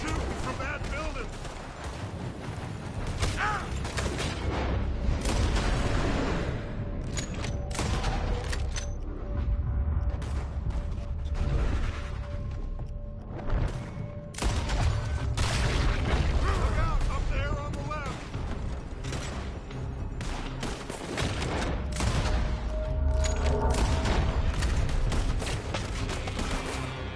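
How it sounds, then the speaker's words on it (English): Repeated gunfire from a building in Red Dead Redemption 2, dense volleys of shots and booms going on throughout, with voices shouting over the battle. "They're shooting from that building!"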